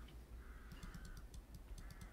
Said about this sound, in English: Yeah, I hear a bird.